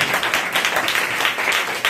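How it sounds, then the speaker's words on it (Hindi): A church congregation claps hands loudly and steadily, a dense, continuous wash of applause filling the whole stretch at close range. "ताली जोर से बजाए, जोर से बजाए सर"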